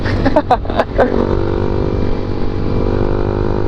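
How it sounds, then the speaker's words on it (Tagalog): A motorcycle with an open exhaust pipe idles loudly and blips its throttle a few times near the start, then holds a rough steady rumble close by. "Naka open pipe kasi itong ano, itong motor ni Niel"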